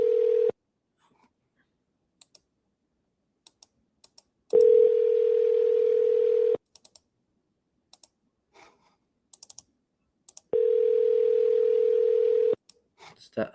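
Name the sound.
outgoing phone call ringing tone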